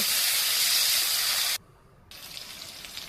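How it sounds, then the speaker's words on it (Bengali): Taro and potato pieces dropped into hot oil already fried with cumin, a loud, bright sizzling hiss that cuts out abruptly, then resumes more softly and keeps crackling. "এদিকে এখন কচু আলুটা দিয়ে দিব।"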